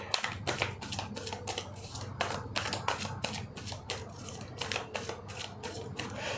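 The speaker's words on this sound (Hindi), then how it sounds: "चलो मैं शफल तो कर लूँ पहले, फिर मुझे कार्ड्स देना।" Tarot cards are shuffled by hand in a run of quick, crisp riffling flutters and taps, close and fairly soft, repeating steadily with no talk over them.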